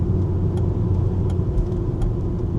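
Audi Quattro rally car engine droning close from inside the car during a gear shift, a steady low rumbling note that holds evenly for a few seconds.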